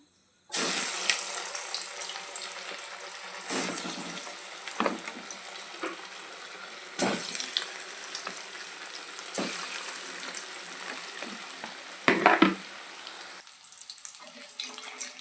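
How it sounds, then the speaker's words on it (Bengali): Egg chops fry in hot oil with a steady hiss and crackle, punctuated by a few louder splashes and spits as pieces go in. "এবার চপগুলো একে একে ভেজে নেব। কোট করে নিয়েছি, এদিকে তেল গরম হয়ে গেছে। এবার ভেজে নেব।"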